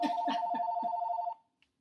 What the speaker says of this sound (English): I'm sorry my phone rings.